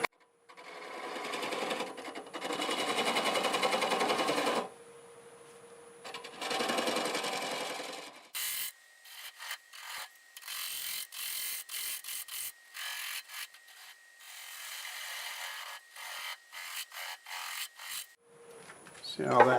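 Bowl gouge cutting a black locust burl bowl on a lathe: long continuous cutting runs give way to a rapid chattering, intermittent scrape as the tool meets the uneven live edge, close and fairly loud.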